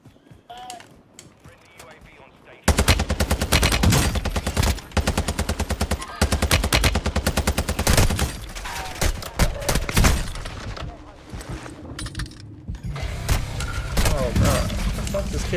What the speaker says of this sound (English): Kid shooting me through the smoke?